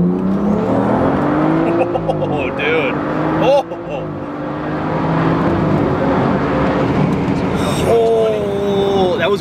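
A 600-horsepower BMW 335ix F30 with a big turbo accelerates hard, its engine note climbing through gear changes from inside the car while passengers talk over the steady roar.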